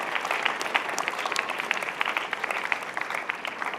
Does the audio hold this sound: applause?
yes